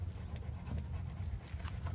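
A pit bull pants rapidly and close while playing with a giant tire, quick rhythmic breaths with faint scuffing and no voices.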